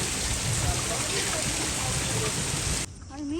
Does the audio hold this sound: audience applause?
no